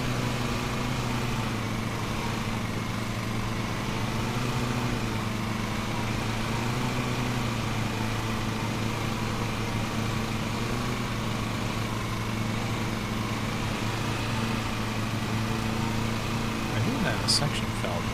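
Riding lawn mower engine in the Lawn Mowing Simulator video game, a steady, even drone that holds at one pitch throughout and stays moderately loud and constant.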